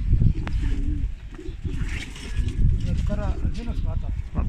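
Male breeding pigeons coo repeatedly in soft, throaty rolling calls from close by, over a busy background with voices talking throughout.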